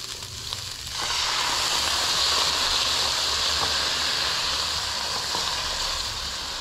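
White wine hits a hot pan of sausage ragù with a loud, steady sizzling hiss that rises after a softer first second and holds close and even to the end.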